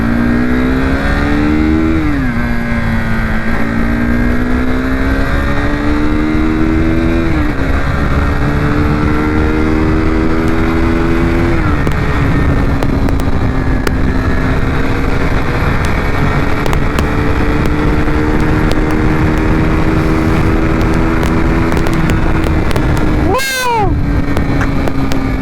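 A KTM Duke 390 motorcycle accelerating hard on a ride, its engine note climbing through repeated revs and gear changes, loud and close throughout with steady wind rush.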